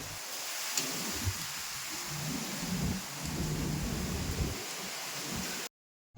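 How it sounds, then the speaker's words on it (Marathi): A heavy rainstorm with strong wind roars as a steady, broad wash of rain and gusts with low rumbles, holding constant before cutting out abruptly near the end. "इतकं भयानक वारं आलं आणि तुफान पाऊस सुरू झाला"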